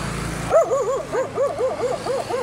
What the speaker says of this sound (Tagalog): Ang tapang ng kanilang dalawang aso guys.